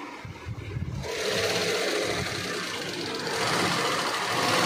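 Sewing machine stitching a sari, running continuously with a steady mechanical whir and rattle throughout, loud and close with no talking.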